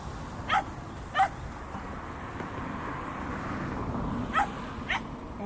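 Stray dogs give a few short, scattered yips and barks at moderate distance over a steady outdoor background, with a quiet gap in the middle before two more brief yelps.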